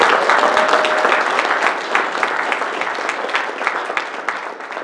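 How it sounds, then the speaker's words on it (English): A meeting audience applauds Bob Kilpatrick, with dense, steady clapping throughout and individual sharp claps standing out near the listener. "I think he deserves a round of applause"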